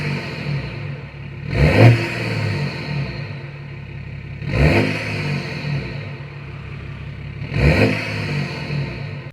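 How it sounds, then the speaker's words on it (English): Modified BMW X3 diesel engine heard from outside, revving in three sharp blips with a rumbling idle between, close and loud, no talking. "the engine sounds nice and revvy"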